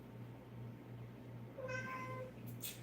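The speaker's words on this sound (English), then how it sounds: "If you guys can hear my cat" A pet cat named Perla meows for attention, one drawn-out meow rising out of a quiet room with a low steady hum, followed by a brief higher squeak.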